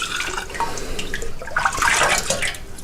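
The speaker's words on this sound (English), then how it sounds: "we're gonna fill up our mason jars" Apple pie moonshine is poured into mason jars, a close, steady run of liquid splashing and gurgling that swells louder toward the end, with no voices over it.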